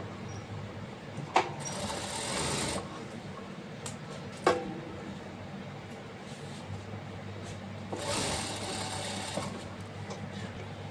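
A sewing machine stitches a folded frock hem in two loud whirring runs separated by quieter handling noises and a couple of sharp clicks.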